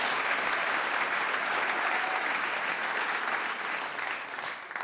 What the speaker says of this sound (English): let's please get a round of applause for all those who have helped so far.